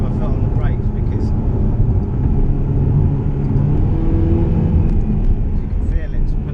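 A Ferrari California engine-brakes while approaching a roundabout, a low steady rumble heard from inside the car beneath continuous talk.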